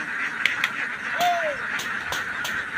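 Ducks at a duck farm quacking close by in short separate calls, along with a steady background hiss and some faint murmuring.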